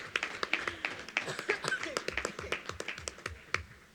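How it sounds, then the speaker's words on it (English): A school board meeting crowd applauds Ponderosa High School students with dense, continuous clapping that stays moderately loud and close, with some voices mixed in. "One more round of applause for Ponderosa High School."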